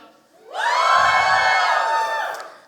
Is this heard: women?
yes